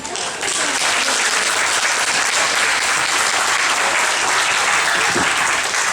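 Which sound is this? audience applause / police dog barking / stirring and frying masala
audience applause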